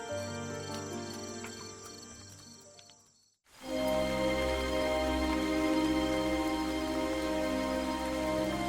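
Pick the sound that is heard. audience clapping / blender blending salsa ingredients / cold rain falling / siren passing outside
cold rain falling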